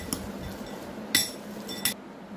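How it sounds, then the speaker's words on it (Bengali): A spoon clinks against a bowl while a chickpea and peanut snack is mixed with lemon juice, giving three or four faint, sharp taps spaced about a second apart over a quiet room. "এবার দিয়ে দেব লেবুর রস। ভালো করে আমি মিক্স করে নেব।"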